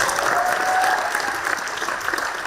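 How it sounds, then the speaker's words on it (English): Audience applause at a conference fills the room with dense, steady clapping from a sizable crowd, continuous and fairly loud throughout. "a big round of applause for Esther"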